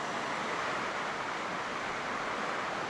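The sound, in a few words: creek water flowing down a mountain gully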